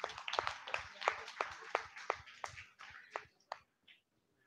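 A church audience gives scattered rhythmic clapping, a cluster of hands beating in uneven time up close before trailing off to a few last claps and silence.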